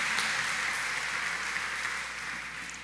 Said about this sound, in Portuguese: Vamos aplaudir o Senhor Jesus hoje